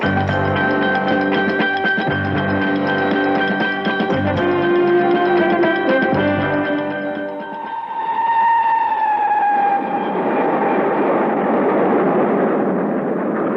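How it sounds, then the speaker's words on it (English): In the TV series The Avengers, a train roars past at close range, a loud rushing rumble with a sliding whistle-like tone, following a stretch of sustained tonal music. "In the train, roaring its way towards Norborough"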